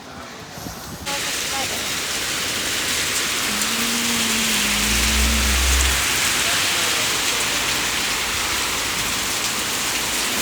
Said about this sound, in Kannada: ನಮ್ಮ ಮೈಸೂರು ಮಳೆ ನೋಡಿ